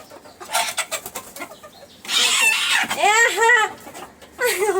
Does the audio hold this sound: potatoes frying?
no